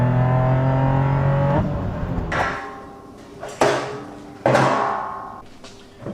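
A Nissan 370Z fitted with a TopGuns ACE supercharger pulls hard under acceleration, its loud engine tone climbing before dropping away, then sharp bursts as it shifts and surges again, close and without talk.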